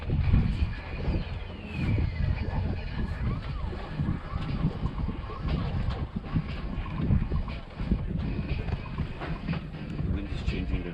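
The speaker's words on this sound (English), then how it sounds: "Wind is changing direction here." Steady wind buffets a sailboat at sea in dead or shifting wind, with rumbling gusts and water wash throughout and occasional voices underneath.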